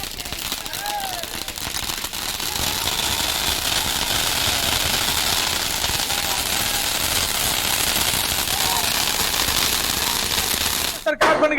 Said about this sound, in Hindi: मुजफ्फरपुर में जमकर आतिशबाजी की गई।